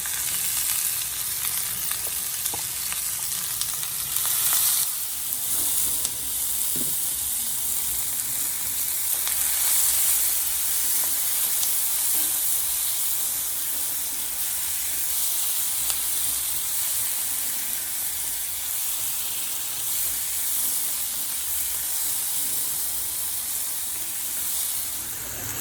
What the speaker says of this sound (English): I'm just adding in the onions and the tomatoes and I'll saute those for maybe a few minutes